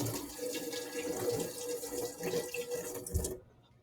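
Tap water runs into a sink while a fork is washed, a close, steady splashing stream with small clinks that lasts about three seconds and then stops abruptly.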